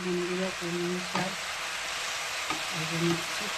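Water spinach (kalmi shak) sizzles and fries in a pan, a steady crackling hiss throughout with stirring knocks and a voice humming faintly underneath.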